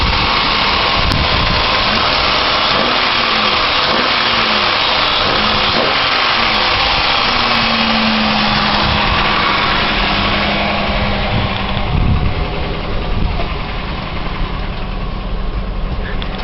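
2001 Chevrolet Malibu with its stock exhaust idling after a cold start, a loud, steady engine drone with a faint whine rising and fading partway through, continuous from start to finish.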